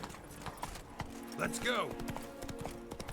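The horse Roach trots in The Witcher 3, with rhythmic clip-clopping hooves under game music and a voice speaking briefly.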